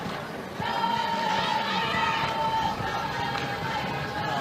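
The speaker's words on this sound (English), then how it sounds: "Great crowd here on a beautiful day in the Valley." A large crowd at a women's college softball game between Texas Tech and Arizona State fills the air with a steady murmur and scattered cheers, broad and continuous at moderate distance, with a sustained whistle-like tone partway through.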